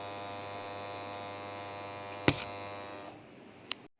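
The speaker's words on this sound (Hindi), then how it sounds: "अब वाटर इनलेट वाल्व्स के दोनों तारों को एक एक करके चेक करें। ये आवाज़ सुन सकते हैं।" An automatic washing machine's water inlet valve buzzes steadily when powered, a close, even mains-frequency hum that drops away near the end, broken by a couple of brief clicks.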